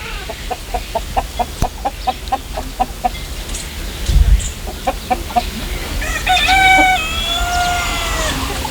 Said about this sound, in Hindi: यहाँ पे असील मुर्गे और मुर्गियाँ नज़र आ रहे हैं।